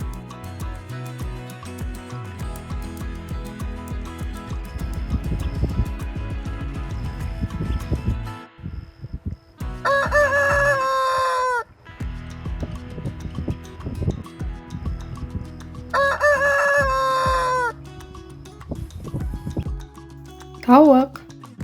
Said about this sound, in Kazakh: Қораз.